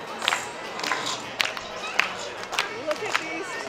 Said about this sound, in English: Oh my God, everyone's clapping.